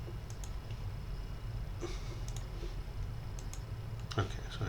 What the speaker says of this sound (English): If I clicked on it, it's not letting me click on it.